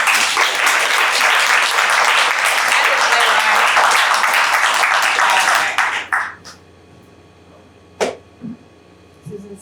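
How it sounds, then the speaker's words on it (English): An audience claps in steady, dense applause for about six seconds, then it fades abruptly to near silence, leaving only a few faint scattered claps. "Give us one more applause for the day."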